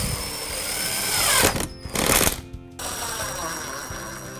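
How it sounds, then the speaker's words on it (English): A power drill or driver sends a screw through a hole in the fence of a miter saw, fixing a timber guide jig. A steady whir is broken by two brief pauses, with a continuous mechanical hum near the microphone. "I'll just screw that to my miter saw here, just through the hole in the back of the fence."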